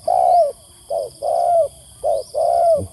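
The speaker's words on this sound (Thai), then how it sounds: "เสียงเจ้าดอกเตอร์ขันย่องครับผม" A spotted dove coos nearby in a repeating pattern of soft, hollow notes, short and long calls alternating with brief pauses.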